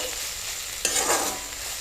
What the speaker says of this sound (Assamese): প্ৰায় মোৰ শাক ভজা হৈ গৈছে।